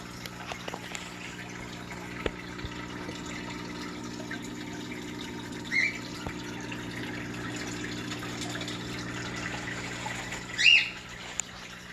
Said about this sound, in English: That's Bryce's bird, Jet.